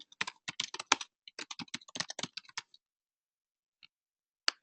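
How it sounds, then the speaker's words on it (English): Quick bursts of typing on a computer keyboard, clustered clicks over about three seconds, then a pause and two isolated keystrokes, close and fairly quiet. "So you can type in different universities, you can type in different brands"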